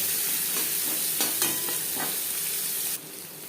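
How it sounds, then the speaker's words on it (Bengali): Chopped onions fry in a little oil in a pan while a katla kalia fish curry is being cooked, giving a steady, close sizzle with a few soft stirring scrapes and no talking. "ভেজে নেওয়ার পর দিয়ে দেবো পেঁয়াজ কুচি"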